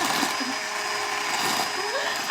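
Hand blender whizzing up a raspberry mousse mixture, a continuous high motor whir with a faint lower rumble, steady for a couple of seconds before a brief louder rise at the end.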